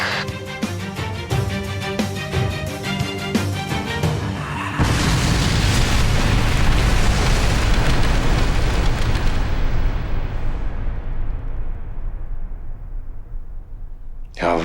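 A loud, deep explosive boom bursts in after a steady musical passage, then a long rumbling roar slowly fades away.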